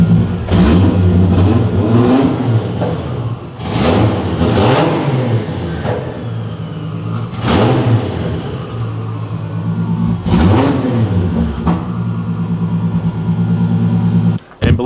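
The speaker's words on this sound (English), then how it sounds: "let's give you guys some baby revs" A 1100-horsepower 2JZ engine swapped into a Nissan 370Z gets blipped while parked: a loud, rough idle broken by about five short rising revs that each fall back, with a voice talking over the engine.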